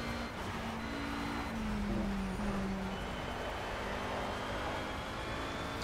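An Oreca race car in Project CARS driven at half throttle on the Sonoma circuit, a steady droning engine note with a wavering whine over a constant rush of road and wind noise, no talking.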